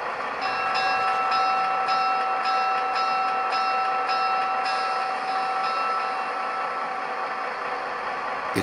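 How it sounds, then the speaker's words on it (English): An MTH Doodlebug DC-3 rail inspection car model with Proto-Sound 3.0 rings its bell in a steady rapid repeating pattern for several seconds over a constant humming tone, with no voices. "and there's also a bell."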